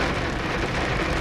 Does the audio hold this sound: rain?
yes